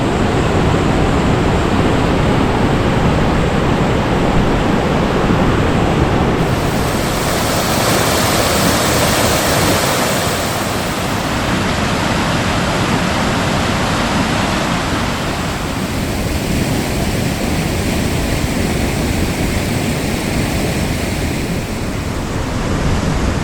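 Powerful waterfall on the Hantan River after heavy rain, heard from near a basalt stone bridge: a continuous loud rushing roar with some wind buffeting the microphone, no speech.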